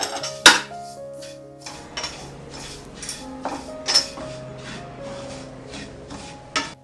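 Semolina roasts in ghee in a pan while a spoon scrapes and clinks against the metal in irregular strokes, with one sharp clatter at the start.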